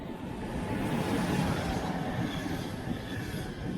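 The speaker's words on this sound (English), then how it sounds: "So here comes that train." A steady broadband rumble and rush of an electric train passing close by near Lake Zurich, Switzerland, continuous and fairly loud throughout with no voices.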